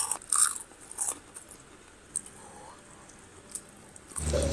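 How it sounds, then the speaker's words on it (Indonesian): Crisp crunching bites into crunchy fried chicken with a crackly coating, a few separate crunches close to the mic, followed by a louder rustle at the end. "Gurih garingnya yang kriuk"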